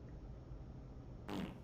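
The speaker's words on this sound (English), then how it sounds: "Ah, yes, the fart noise." A cartoonish fart sound effect from a Death Battle animation bursts in near the end, loud and brief, after a steady low background rumble.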